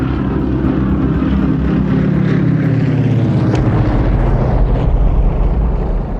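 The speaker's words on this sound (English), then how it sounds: "A-1E Sky Raiders joined the battle" An A-1E Skyraider propeller dive bomber drones loudly and continuously, a heavy low engine roar with a steady buzzing texture that stays strong and close throughout.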